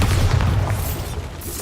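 A deep, heavy magical blast booms in a fantasy video game, a loud low rumbling burst that decays over about a second.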